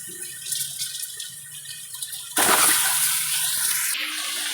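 Eggs hit a hot pan with a pinch of dal and chilli powder as an egg dum biryani is started: a quiet, uneven rustle, then a sudden loud hissing sizzle that holds steady before easing slightly.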